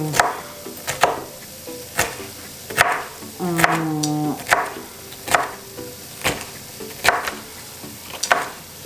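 A knife chops food into small squares on a cutting board with sharp, close, fairly regular knocks roughly once a second, with a brief tonal squeak in the middle of the sequence.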